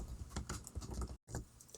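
Quick, quiet typing on a computer keyboard, a rapid patter of soft keystrokes with a short gap before a few more taps, close and alone.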